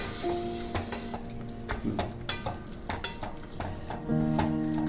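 Masala being stirred and roasted with a splash of hot water in a pan for Kerala kadachakka (breadfruit) mappas, a steady close sizzle broken by repeated scraping and clinks of the spoon against the pan.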